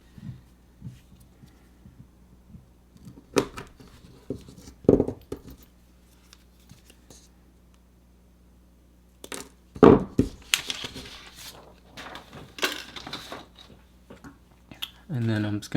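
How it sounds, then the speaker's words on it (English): A cutter snips the motor wires of a Lumenier QAV-X quadcopter, giving several sharp, isolated clicks spread over quiet handling noise. "I'm just gonna cut the motor wires to the length that's on here"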